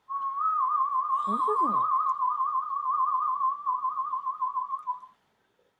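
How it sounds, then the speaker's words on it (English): A person whistles one long, steady warbling tone for about five seconds. A brief swooping sound and a short exclamation cut in early on, and then the whistle fades out. "I'm whistling."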